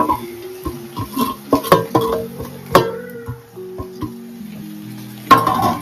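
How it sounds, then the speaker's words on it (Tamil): Green chillies, onions, tomatoes and mint are sautéed together in a pan, with a spoon scraping and knocking against the metal in irregular, close clinks and a faint sizzle between them. No voices. "பச்சை மிளகாய் போட்டு, வெங்காயம் வந்து, தக்காளி, வெங்காயம் 2 புதினா எல்லாத்தையும் ஒன்றா போட்டு வதக்கிட்டு"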